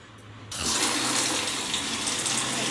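After a quiet start, water begins pouring from a tap into homemade liquid plant fertilizer, a sudden steady gushing splash that continues loudly to the end.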